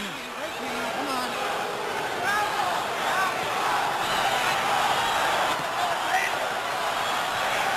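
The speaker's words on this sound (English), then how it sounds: "Now the crowd chants, Oscar, Oscar, Oscar." A boxing crowd at the 1994 Oscar De La Hoya vs Jimmy Bredahl fight makes a steady, dense roar of cheering and chanting that fills the arena, with voices mixed in throughout.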